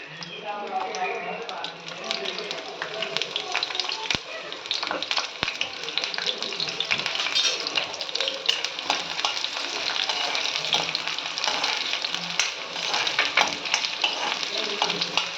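Onion and green chilli sautéing in sesame oil with turmeric and chilli powder, a steady loud sizzle with frequent stirring clicks throughout, a voice talking now and then over the frying.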